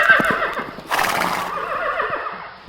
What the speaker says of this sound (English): that's the way that the horse calls to each other when they cry out